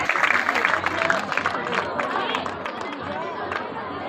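Audience applause fills a hall at an ITI convocation ceremony, a steady wash of many hands clapping that starts strong and gradually thins, with crowd murmur underneath.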